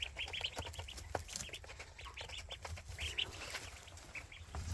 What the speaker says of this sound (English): if you've never seen baby ducks eat, it is literally the cutest thing ever